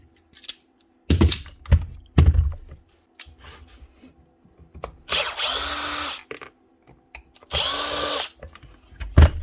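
A DeWalt DCH333 SDS drill with a grinding, non-rotating fault runs in hammer mode in two long, loud bursts, following a few short knocks and handling clicks, with quiet gaps between.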